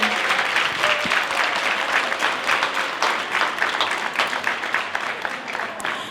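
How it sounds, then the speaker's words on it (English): Theatre audience at a showcase performance gives a steady, dense round of applause that fills the whole stretch, with no speech over it. "Give them another round of applause to encourage them."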